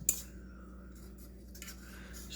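A fork scrapes and scoops deviled egg filling back into halved egg whites, with a sharp clink of metal on a dish at the start and a few soft scraping sounds afterward, close and quiet.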